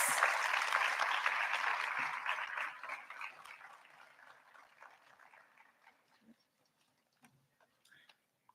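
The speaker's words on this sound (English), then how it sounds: "I request the audience to welcome our speakers with a grand round of applause." Audience applause at a tribal health symposium plenary session in welcome of speakers, loud and dense at first, then thinning into scattered claps and fading to near silence with a few faint knocks and movements.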